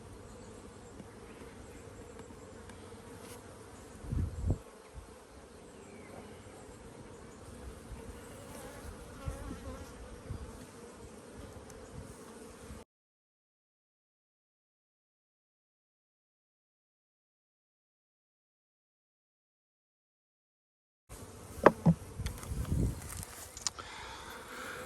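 Honeybees buzz around a hive in a steady, soft drone of many wings with occasional nearer passes, cutting out to silence midway before the buzzing returns.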